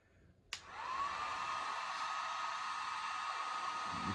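After a sharp click, a heat gun starts and blows a steady, even hiss, shrinking heat shrink tubing on wiring during an off-grid system install in a motorhome.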